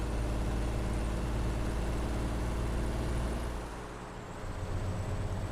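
An Alaskan road truck rolling on the highway with an odd rattling rumble like tire chains, a loud continuous low roar that dips briefly and then returns, heard from inside the cab.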